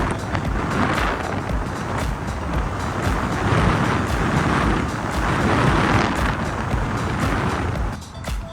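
An electric bike fitted with a 3000-watt MB power kit rides along at speed, a loud, continuous rush of motor whine, tire roar and wind buffeting the microphone, with no talk.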